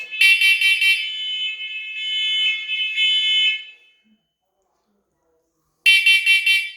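A First Alert combination smoke and carbon monoxide detector sounds loud, shrill beeping bursts in rapid groups. A synthetic voice warning is heard between them, then there is a pause of silence before the beeps start again.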